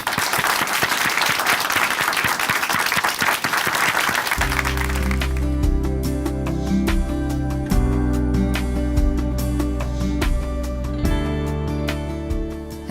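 A church congregation claps loudly to welcome a speaker for about four seconds, then the applause continues under sustained organ or keyboard music that enters and carries on to the end.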